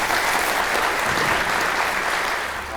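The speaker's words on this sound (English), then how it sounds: "Let's give her a round of applause." An audience at a Columbia County Board of Education community event breaks into sustained applause, a dense, even wash of clapping from many hands that holds steady and tapers slightly at the end.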